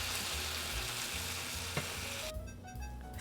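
Cooking liquid poured into a pan of six frying patties and vegetables, a loud continuous sizzle that drops into a softer bubbling simmer near the end, close and steady.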